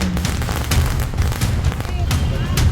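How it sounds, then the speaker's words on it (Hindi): Strings of firecrackers burst in the streets of Thane district, Maharashtra, during a celebration, making a dense, continuous crackle of sharp pops under loud crowd noise and voices. "सड़कों पर फूटती पटाखों की ये लड़ियां"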